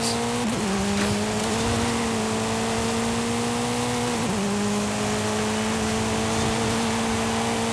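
Race car engine from Forza Horizon 5, an MG circuit car, holds a steady loud drone throughout, its pitch dipping briefly twice as it shifts or brakes for corners before climbing again.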